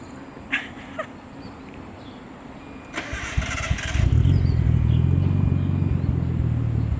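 A Nissan A31 Cefiro fitted with a new HKS Super Drager exhaust is started after a few faint clicks, a brief crank giving way to a steady low exhaust rumble at idle that holds loud and close.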